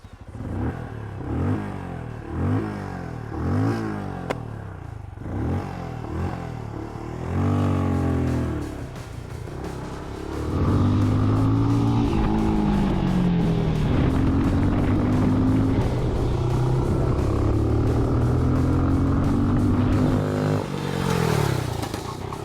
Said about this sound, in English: I have the chance to take a ride on the Benelli Imperial.